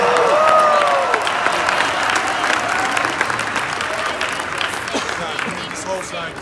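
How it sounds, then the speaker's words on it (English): Convention audience in Las Vegas applauding and cheering loudly, dense sustained clapping with shouts and whoops throughout, gradually thinning toward the end. "Give them a tremendous round of applause."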